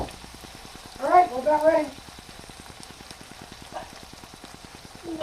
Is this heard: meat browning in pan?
yes